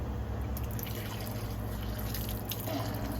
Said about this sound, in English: I'm just using the force of the water to clean against all of the sides